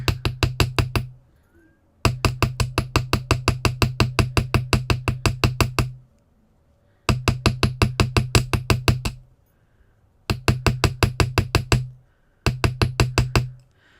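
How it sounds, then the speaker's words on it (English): Rapid, evenly spaced taps of the small side of a hammer on metal to add texture, struck in quick bursts of many blows separated by short pauses, close and crisp with no talking. "I'm going to turn it to the small side and hammer along to make a little bit more texture"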